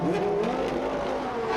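Jan Lammers' race car at a 2001 FIA SCC round at Mondello Park pulling away from the pits after stalling, the engine rising in pitch with a continuous loud drone and no talk.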